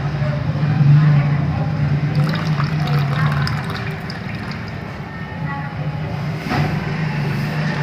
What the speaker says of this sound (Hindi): इसलिए हम इसको पानी डाल के इसमें और इस तेजाब को सारा निकाल देंगे